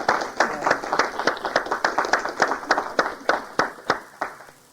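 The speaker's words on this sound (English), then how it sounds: "So join me in a round of applause." A small audience at a society meeting claps for outgoing officers, distinct close hand claps in a steady patter that thins out and fades over several seconds.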